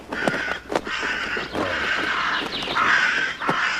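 Crows caw in a quick series of harsh, nasal calls, several distinct caws close by over a faint background hiss, with no voices.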